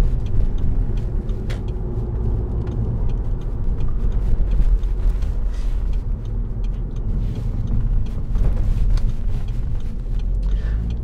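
A 2008 Audi TTS 2.0 TFSI Roadster with S tronic gearbox and quattro drive cruises on a test drive, a steady low engine and road rumble with scattered light clicks and knocks, no talking.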